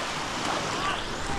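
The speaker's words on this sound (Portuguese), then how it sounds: "Aí, vem a onda, ó." An ocean wave breaks on the beach at Arraial do Cabo, Brazil, in a brief, loud, close wash of surf with wind noise.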